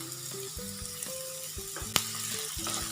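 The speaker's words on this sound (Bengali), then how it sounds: "এবার আলু আর পেঁয়াজ একসঙ্গে ভেজে নেব।" Potatoes and onions frying together in a pan, a continuous moderate sizzle broken by repeated spatula scrapes and knocks, one sharp clack midway.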